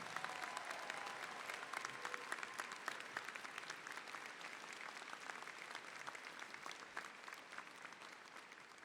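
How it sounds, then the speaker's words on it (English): Graduation ceremony audience at Five Towns College giving the class of 2017 another round of applause, a continuous, even wash of clapping from a large crowd heard at a distance and fairly soft, with no speech over it. "give them another round of applause"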